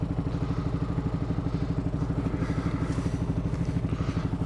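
Kawasaki KLR 650 motorcycle ridden through snow and mud, its single-cylinder engine thumping in a fast, steady low pulse, close and continuous, with some clatter above it.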